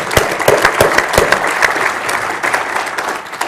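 Loud, lively applause from delegates at a global supply chain business summit, crisp individual claps standing out within a full, continuous round of clapping.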